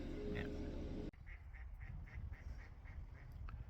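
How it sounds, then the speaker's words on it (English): Ducks quack in a short rhythmic run of about ten calls, fairly faint and distant over a soft outdoor background after a brief louder noise at the start. "You might have heard the ducks there just a moment ago."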